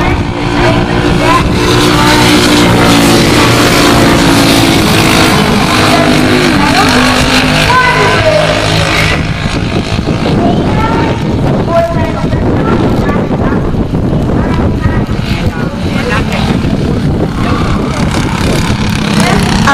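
Race cars in a 206 Cup race roar around a tight track, engines loud and continuous with revving and wind buffeting, while a commentator talks over the noise throughout.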